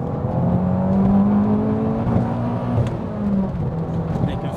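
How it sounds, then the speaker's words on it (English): A 300 bhp big-turbo Abarth 500 in second gear accelerates hard from low revs, engine note droning and rising steadily as boost builds, loud and close from inside the car. "So just building up the boost now."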